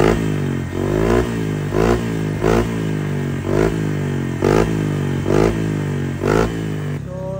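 A Honda Click scooter fitted with a Kevin aftermarket exhaust pipe revs repeatedly in a close, loud soundcheck, about seven sharp throttle blips rising and falling over a steady idle rumble, with no talking.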